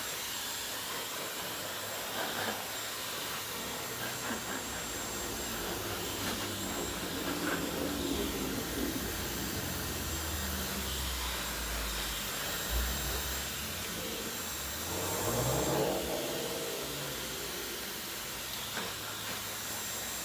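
A steady, low whooshing hiss of a hair dryer running on a gentle setting, constant throughout with faint rustling underneath.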